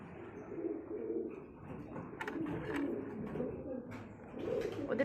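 Beauty homer pigeons, one silver-coloured, coo in soft low throaty rolls close by, with light rustling and a few sharp bird noises and clicks mixed in.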